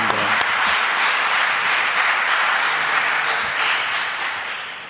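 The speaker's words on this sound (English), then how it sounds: "I would like to ask you to clap your hands once more for Ilaria." Audience at a book launch applauding, steady dense hand clapping that fills the room throughout, fading slightly toward the end.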